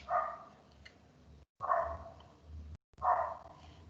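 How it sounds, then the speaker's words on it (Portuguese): A dog barks in three separate bursts, each loud and close, with short pauses between them, heard indoors with no talk over it. "esse cachorro fica latindo e atrapalha"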